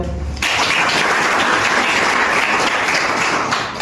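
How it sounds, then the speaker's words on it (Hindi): A group of students at a government senior secondary school youth village council event applaud themselves, a sudden burst of loud, dense, sustained clapping from many hands that fills the room after a brief quiet start. "पहले तो अपने लिए तालियां बजाओ"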